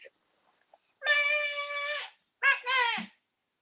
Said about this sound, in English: Don't know if you can hear her meowing